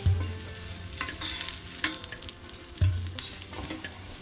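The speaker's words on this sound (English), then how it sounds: "we want to keep stirring that, flipping this stuff over, letting it soften up" Chopped vegetables fry in a hot pan with a steady sizzle, broken by two sharp scraping knocks as they are stirred and flipped, close and fairly loud with no talking.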